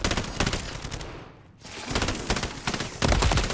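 A sentry gun in Modern Warfare Zombies fires sustained rapid bursts, loud and close, with a short pause in the middle before the automatic fire resumes.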